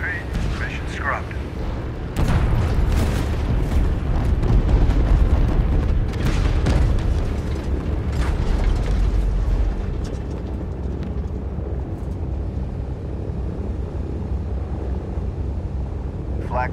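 Anti-aircraft flak bursts around a bomber in a wartime TV drama, heard as dense, heavy rumbling booms under a constant engine drone, with brief radio-like voices at the start and end.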